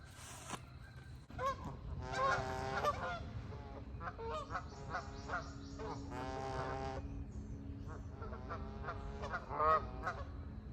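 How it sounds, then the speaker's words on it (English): A flock of geese honks repeatedly in overlapping bursts on a wet, rain-soaked island campsite, calls rising and falling at mid distance against a quiet outdoor background. "It's Duck City out, Goose City out here."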